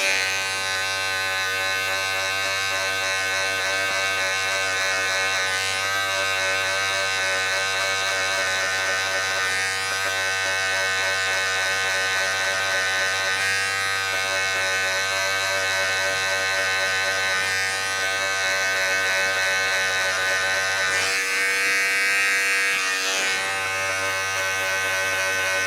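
Electric hair clippers fitted with a one guard buzz steadily through a haircut, a constant close motor hum with harmonic whine and a brief change in tone near the end as the blade shifts against the hair.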